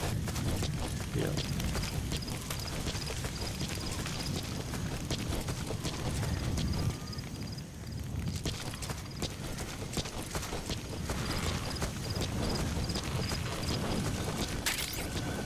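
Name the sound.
horse hooves clip-clopping in Metal Gear Solid 5 video game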